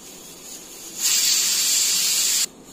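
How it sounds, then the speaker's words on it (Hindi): A pressure cooker whistle: a sharp, high-pitched hiss of steam bursts out suddenly and holds steady for about a second and a half, then cuts off abruptly. "अब देखिए इसमें कितनी छोटी सी विसल निकलती है, छोटी सी।"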